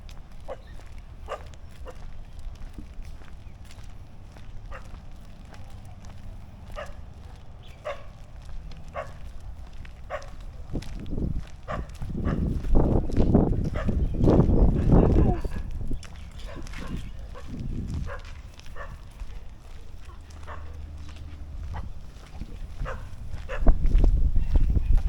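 Puppies and their mother at a Thai dog spot, with one bark coming from within an enclosure amid footsteps, rustling and clatter, under steady talk from people nearby.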